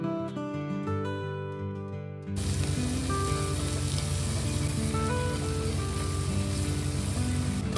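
Garlic paste, red chili powder and grated beetroot fry and are stirred in a pan for Sikkim-style aloo thukpa, a steady loud sizzle that takes over after a brief musical opening.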